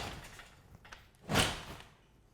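A garage side door is swung shut by hand, giving a single muffled thud of closing after some faint handling noise, fairly close and with no talking.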